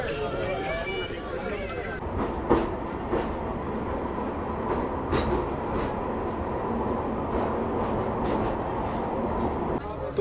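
Uttar Sampark Kranti express (12445) heard from inside a crowded general coach: a steady, loud rumble of wheels and carriage running continuously, with scattered clunks and people talking over it throughout.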